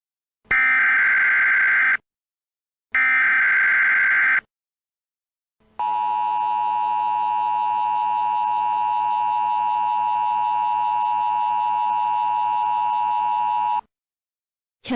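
A South Korean emergency alert alarm tone sounds loud and alone: two short bursts of buzzing tone with a gap between them, then a long steady tone holding for about eight seconds before cutting off.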